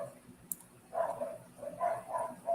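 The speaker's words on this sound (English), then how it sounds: "I guess you can hear the dogs, right? When somebody walks by, they all get going." Several dogs bark outdoors on a Sunday, a few distant, muffled bursts that come and go, fairly faint against a quiet background.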